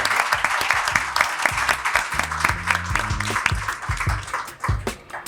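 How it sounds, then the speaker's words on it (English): Audience applause closing a live talk session, dense steady clapping from a group, close and fairly loud, with a few voices faintly underneath. "Let's clap for ourselves and end the session."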